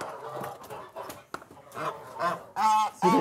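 Geese on a foie gras farm give several loud, nasal honks close by, irregular calls that grow stronger toward the end, with some clucking fowl sounds mixed in.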